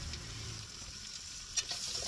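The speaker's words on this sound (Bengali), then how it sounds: "দিয়ে দিলাম পেঁয়াজগুলোকে এখন লাল লাল করে আমি ভাজবো।" Onions frying in hot oil in a pan for a prawn bhuna, a steady soft sizzle with a couple of brief clinks near the end, close and fairly quiet.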